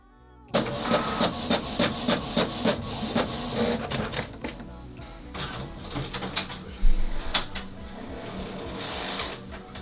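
A Canon TR7520 inkjet printer prints a page steadily, its mechanism whirring and clicking in a fast repeating rhythm as the carriage moves back and forth, with a few louder thumps.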